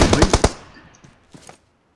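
Rapid burst of gunfire in the shooter game PUBG Mobile, loud and close at first, then a few fainter distant shots trailing off.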